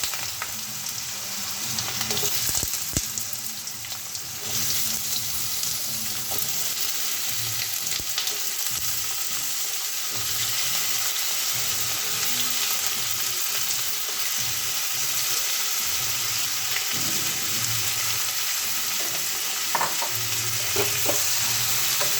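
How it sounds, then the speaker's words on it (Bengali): Potatoes fry in hot mustard oil in a wok, giving a steady, close sizzle for the whole stretch, with the scrape and clatter of stirring now and then and no talking. "আমি আলুগুলো ভেজে নেব।"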